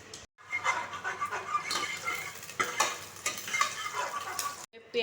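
Onions fry in hot oil with whole spices such as bay leaf, a crackling sizzle stirred with rhythmic scraping and clinking of a spoon against the pan, close and steady with brief pauses.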